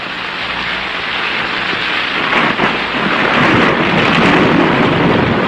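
Heavy rain pours steadily in a film storm scene while a rolling rumble of thunder swells and grows louder toward the end, with no voices.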